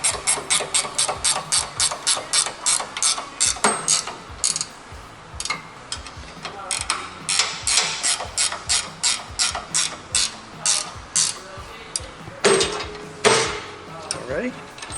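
A hand ratchet clicks in quick rhythmic runs while undoing 15/16-inch head bolts on a zero-turn mower, close and sharp, with pauses between runs and scattered metallic knocks.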